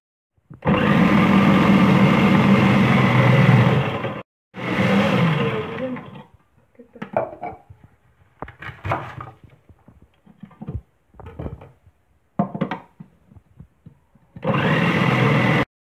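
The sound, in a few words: food processor shredding cabbage and carrot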